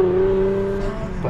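A Ford Mustang muscle car drives hard on a San Francisco street, a loud, close engine roar with a sustained tone that fades as it moves off.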